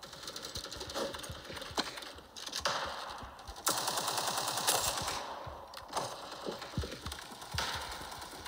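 Rapid automatic gunfire from a teammate in Counter-Strike, bursts of sharp rattling shots, fairly faint and distant, with short pauses between volleys.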